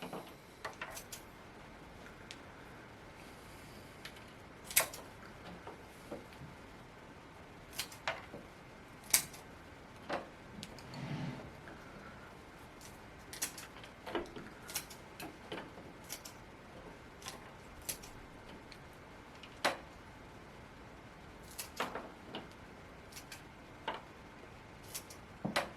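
Small pruning shears snip branches while cutting back a dwarf jade (Portulacaria afra) bonsai: quiet, scattered sharp clicks at irregular intervals, close by, over a faint background with no talk.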